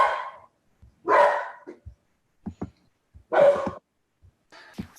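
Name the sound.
dogs barking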